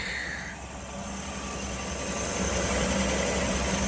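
A 1960 Chevy Biscayne engine idles smoothly with its tappets gone quiet, a steady close-up rumble holding an even drone throughout with no voices.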